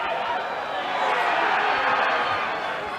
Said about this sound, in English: The noise that we can hear there from the Onkers crowd on the other side of the field